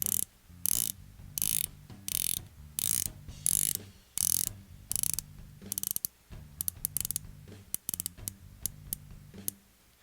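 Rotating watch bezel with scalloped edge being turned, producing rapid crisp ratcheting clicks in bursts, close and clear, with short pauses between turns and no talking.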